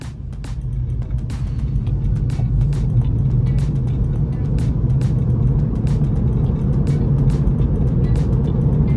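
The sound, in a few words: Tesla car accelerating from stoplight on FSD Autopilot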